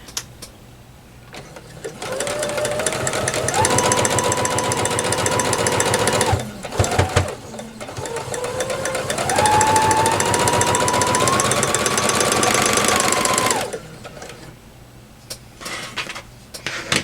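Sewing machine stitching a four patch quilt block runs in two loud, rapid mechanical bursts with a short pause between, starting and stopping close by.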